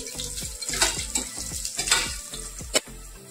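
Turmeric and asafoetida crackle and sizzle in hot oil tempering with a few sharp pops, over a steady musical background with repeated low tones.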